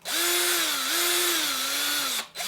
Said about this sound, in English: I'm going to drill a hole in the bottom of this cup.